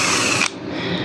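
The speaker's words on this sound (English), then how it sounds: "and also battery drill" Cordless battery drill whirring loudly for about half a second before cutting out abruptly, leaving a quieter background hum in a workshop.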